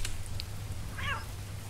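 A cat meows once in the video game Café Owner Simulator, a short, fairly faint call against a steady low hum, with no talking.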